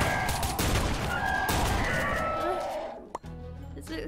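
Rapid bursts of video-game gunfire rattle loudly for about three seconds, dense and continuous like a fusillade, then cut off abruptly, leaving a sharp knock and a low hum.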